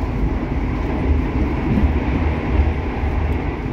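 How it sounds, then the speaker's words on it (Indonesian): Lodaya passenger train running at its top speed of 120 km/h, heard from inside as a steady, loud, low rumbling roar of wheels and carriage noise, continuous with no voices. "beginilah keadaan kereta api Lodaya jika dipacu dengan kecepatan maksimal 120 km per jam"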